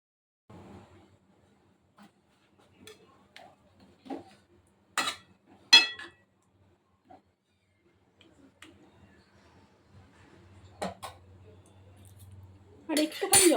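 A lid goes onto a cooking pot of simmering curry, giving two sharp metallic clinks amid scattered faint kitchen clatter in a quiet room.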